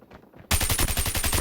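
Rapid automatic gunfire from a submachine gun, an HG-40 (MP-40), erupts loudly in the shooter game Call of Duty Mobile, a dense burst of close shots after a quiet start with faint distant pops.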